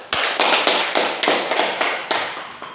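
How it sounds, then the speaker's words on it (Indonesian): Classroom applause for a student group, a burst of many hands clapping together at a steady, close and loud level, with sharp swells of claps and no talking. "Boleh beri aplaus."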